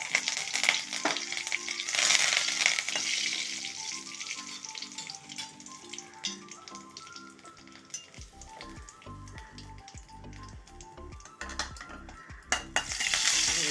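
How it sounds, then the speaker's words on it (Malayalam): Mustard seeds, dried chillies and curry leaves frying in a little oil in a small pan, sizzling and crackling close up, with a few metallic scrapes of stirring. "ചീനച്ചട്ടി അടുപ്പത്ത് വെച്ചിട്ടുണ്ട് ഒരു ടീസ്പൂൺ എണ്ണ ഒഴിച്ചിട്ടുണ്ട് അതിലേക്കൊരു അഞ്ചാറ് കടുക് കൊടുത്ത് മൂന്ന് വറ്റൽ മുളകും കരിവേപ്പില"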